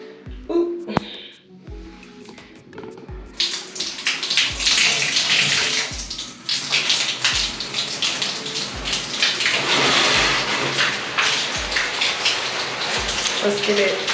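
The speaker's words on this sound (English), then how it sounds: "Turn the water on." Water from a tap runs and splashes steadily in a room, close and fairly loud, starting softly then gushing fully after a few seconds, with a rhythmic knocking underneath.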